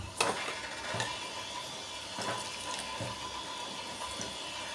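Water poured into a pressure cooker for a bombil (Bombay duck) and brinjal curry, a soft steady trickling splash lasting several seconds, fairly quiet and close, with no talking.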